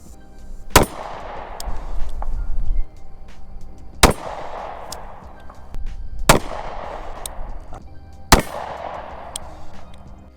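Four sharp, loud pistol shots from a Trailblazer LifeCard .22 Magnum, spaced unevenly a few seconds apart, each with a ringing outdoor decay.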